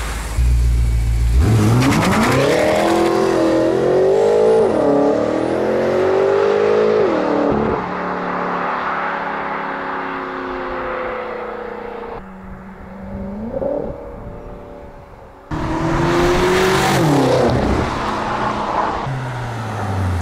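A BMW M5 engine with an Akrapovic exhaust revs hard and loud nearby, rising and falling in pitch through several throttle blips, with a throaty, rumbling exhaust note.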